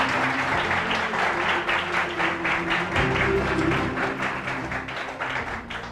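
An audience at a school award ceremony claps loudly and steadily for several seconds, a dense, sustained wash of applause from a crowd close by.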